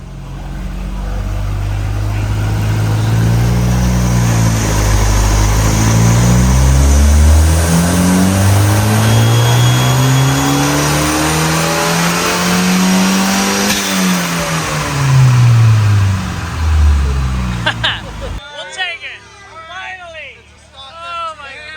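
A Volvo 240 engine revs hard on a dyno at a car meet, its loud note climbing steadily through long pulls before dropping off, with crowd chatter and talking after it stops.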